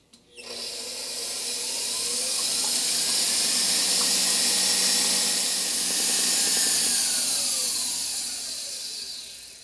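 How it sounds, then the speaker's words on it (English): An electric mixer beats five egg whites to soft peaks, giving a loud, steady whirring drone that swells and holds close to the microphone and then dips slightly near the end. "beating up 5 egg whites to soft peaks"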